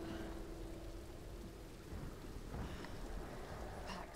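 Steady rain hiss in the Tomb Raider video game, a dense continuous patter of drops with a faint rumble beneath, holding level throughout with no talk over it.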